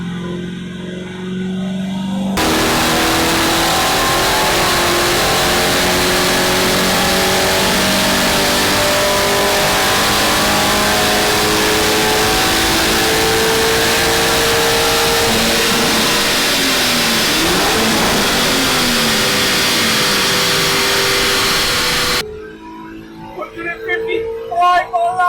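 A Lamborghini Urus revving hard in fifth gear on a dyno, a loud, sustained engine roar climbing steadily for about twenty seconds before cutting off, with voices talking around it.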